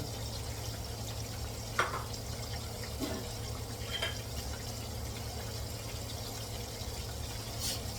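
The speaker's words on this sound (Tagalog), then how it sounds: "ito ay aking lalagyan ng tubig habang hindi ko pa siya niluluto para hindi siya mangitim" Water is poured into a container in a home kitchen to soak fish for frying, a faint steady trickle with a few soft splashes and drips.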